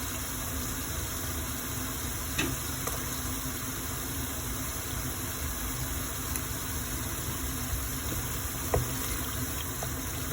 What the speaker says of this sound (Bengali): আমি পেঁয়াজ জ্বেলাইছি তেল দিয়া